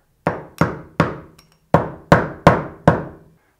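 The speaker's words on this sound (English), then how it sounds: "the joyous task of nailing these up again" Nails are hammered in to hang a string of white lights: seven sharp, close, loud blows in an uneven rhythm, each ringing briefly, with nothing else heard.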